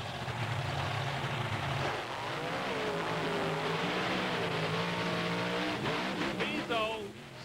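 The Bigfoot monster truck roars down the track at a 1996 monster truck drag race in Canfield, Ohio, its engine howling loud and steady with rising revs, while an announcer talks over it.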